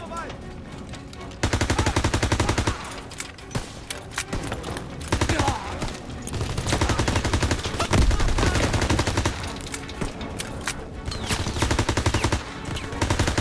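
MP40 submachine gun fire in the video game Call of Duty: WWII: loud, rapid automatic bursts that repeat through the whole stretch, dense and close, with short gaps between volleys.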